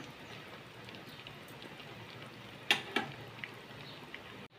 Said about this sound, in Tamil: கொதிக்கட்டும்